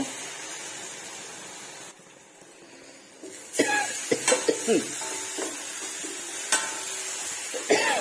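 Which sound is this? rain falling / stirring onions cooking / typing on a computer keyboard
stirring onions cooking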